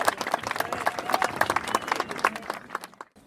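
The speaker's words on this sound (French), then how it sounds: "Vous pouvez vous applaudir, je pense" A modest crowd at an outdoor festive march against industrial tomatoes applauds, with sparse, distinct claps from relatively few hands that thin out and stop near the end.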